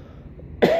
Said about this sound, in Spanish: no se me quiere quitar la tos por completo